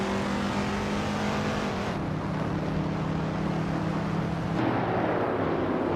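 Race cars roaring around the Forley Ring GP circuit in a racing video game, a classic 1972 Ford among them, with continuous engine drone and a shift in pitch as the pack changes gear.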